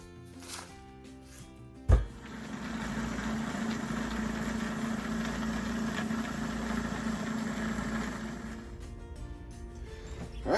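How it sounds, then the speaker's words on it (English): A National Geographic rock tumbler loaded with metal-detected dug coins starts after a thump and runs with a steady, low rumbling churn and rattling, moderately quiet and unbroken for several seconds. "So, off to the tumbler we go."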